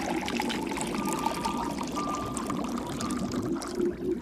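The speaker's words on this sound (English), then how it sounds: "take the displaced water, take the water, put it back in the hole we had earlier" Displaced water poured back into a hole in a buoyancy demonstration, a steady trickling pour running continuously and fairly close, with no talk over it.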